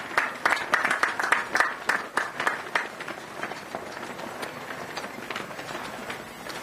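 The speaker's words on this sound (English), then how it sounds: "Please give both ministers a round of applause" Scattered applause at an outdoor ground-breaking ceremony for a renewable energy project, starting with distinct, fairly loud claps that soften into lighter, thinner clapping as the round winds down.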